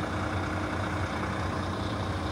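Steady, close diesel idle from a Euro 5 DAF PR 9.2 litre engine in a 2013 VDL Futura II coach with a 6-speed manual gearbox, a continuous low rumble with even texture throughout and no talk.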